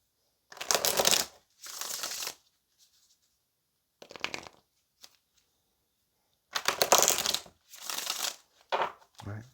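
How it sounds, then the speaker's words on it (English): A tarot deck is shuffled in several quick, crisp bursts of riffling cards, close and clear, separated by short pauses, with a faint voice between them. "let's get one more shuffle"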